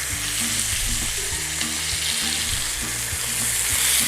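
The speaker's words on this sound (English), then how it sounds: "we want to turn our chops because we're trying to cook an even cook on here" Pork chops fry in a pan with a loud, steady sizzle, with occasional stirring or shifting noises and no talk.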